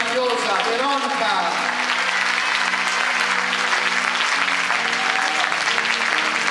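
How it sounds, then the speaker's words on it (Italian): Audience applause for a singer named Veronica after a duet performance, a dense, sustained wash of clapping from a crowd, with a voice speaking over the start. "Un applauso a questa voce meravigliosa, Veronica!"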